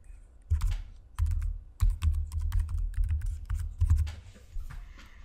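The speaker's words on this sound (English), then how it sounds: "type in the password." Quick bursts of typing on a computer keyboard as a password is entered, clustered clicky keystrokes close to the microphone with short pauses between groups, no voices.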